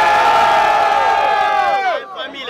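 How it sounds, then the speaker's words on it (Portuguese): Loud, sustained cheering from a big crowd at a rap battle, many voices yelling together before the roar quickly drops off and thins out. "Quem gostou das rimas do GB faz muito barulho"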